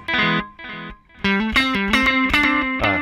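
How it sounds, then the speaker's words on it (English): Guitar through a Line 6 Helix with a delay effect, notes harsh and crackly with digital clipping from channel volume set too high; a couple of short phrases, then a busier run of chords. "It was digital clipping, and that's what you want to avoid."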